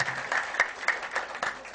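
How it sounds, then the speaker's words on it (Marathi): Scattered applause at a felicitation ceremony where guests receive a shawl, bouquet and coconut, a handful of distinct claps standing out over a faint wash of clapping, fairly quiet and distant. "एकदा जोरदार टाळ्या, कंजूशी करू नका जरा"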